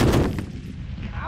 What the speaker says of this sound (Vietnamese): 12 ly 7 khai hỏa thật là đẹp, nhưng mà vẫn chưa trúng.